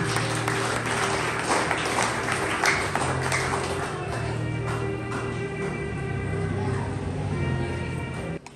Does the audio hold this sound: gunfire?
no